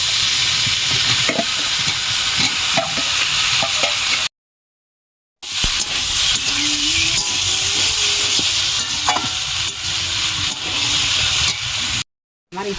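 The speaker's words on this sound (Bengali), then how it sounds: "এখন ইঁচড়টা ছেড়ে দেবো।" Green jackfruit added to prawns frying in spice masala: a continuous close, loud sizzle and hiss with stirring scrapes, broken by two brief silent gaps, with faint speech-like sounds mixed in.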